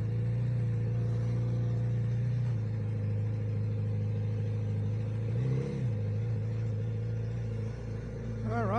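A Kawasaki Z900RS motorcycle engine idles and rumbles steadily up close, with a brief rev in the middle and another blip at the end; there is no talking.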